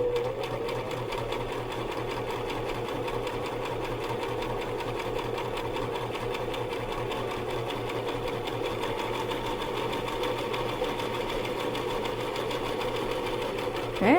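A sewing machine runs steadily while stitching a quilt square, its fast needle hum and mechanical chatter continuous and close for the whole stretch, with a slight bump at the very end.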